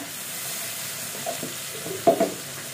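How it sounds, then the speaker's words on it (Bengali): Garlic paste and spices being stirred into a frying pan of onions and potatoes for a Bengali rupchanda fish curry with tomato, a steady low sizzle with a few clattering spoon scrapes near the end, no talking. "এখানে আমি বাকি মশলাগুলো দিয়ে দেবো।"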